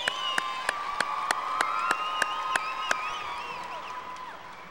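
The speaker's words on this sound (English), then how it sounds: "let's give them a round of applause" A crowd at a Johnson Senior High School graduation ceremony applauds the class of 2018, with sharp rhythmic claps standing out at a steady beat over continuous cheering and whistling whoops.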